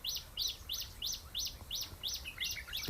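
A small bird near a farm field chirps repeatedly, about nine bright high-pitched calls in a steady regular rhythm, clear and moderately close over faint background noise.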